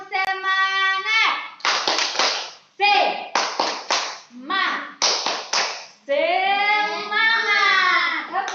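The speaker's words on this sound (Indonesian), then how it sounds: "untuk mengecek konsentrasi kamu, ibu tepuk semangat" Schoolchildren in a classroom perform a rhythmic clapping chant, loud chanted voices alternating with bursts of sharp, in-time hand claps in a patterned sequence.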